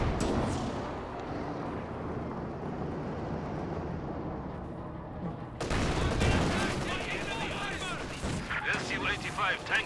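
Tank and gun fire in the World War II strategy game Company of Heroes 2, a dense barrage of explosions and rattling shots, rumbling then sharpening into crackling bursts, mixed under battle noise.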